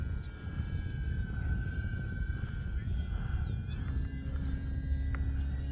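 A Flex Innovations QQ Yak 55 radio-controlled airplane flies crosswind, its engine a steady whine with tonal harmonics that shift slightly in pitch, over constant wind rumble throughout.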